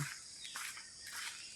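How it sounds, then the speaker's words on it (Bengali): Faint, distant bird chirps come in short bursts over a quiet outdoor background in the early morning. "পাখির কিচিরমিচির আওয়াজ"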